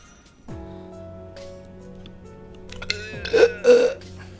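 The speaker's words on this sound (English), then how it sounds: "Wow, that was a weird sounding burp." A loud, strained burp rises from silence in two rough, croaking bursts near the end, close and alone over a steady background tone and music.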